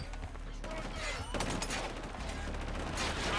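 Gunfire in the Killzone: Shadow Fall video game as a container is shot, a dense burst of loud shots and clatter running throughout over steady game noise.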